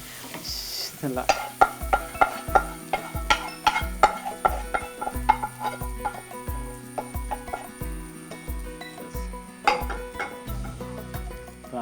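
Grated coconut roasts in a pan, stirred with quick repeated scraping strokes in a steady rhythm over a soft, dry sizzle, close and clear.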